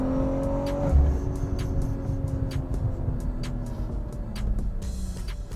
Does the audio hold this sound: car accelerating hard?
yes